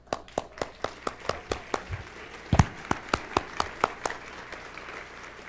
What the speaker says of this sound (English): we want to have a chance to applaud Flash in person